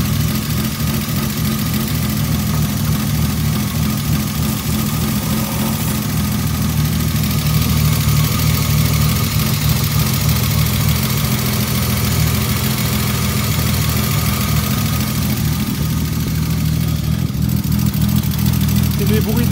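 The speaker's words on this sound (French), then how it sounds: "C'est des bruits de poussoir, ça, non?" A rally car engine idles steadily and close, with a continuous low rumble and a faint ticking from the tappets, while people talk over it.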